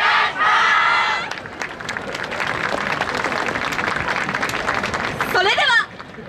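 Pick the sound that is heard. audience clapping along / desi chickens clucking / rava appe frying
audience clapping along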